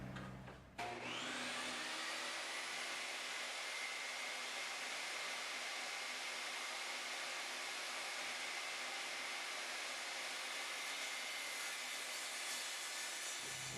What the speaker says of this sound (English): once I actually make the cut and get it all the way through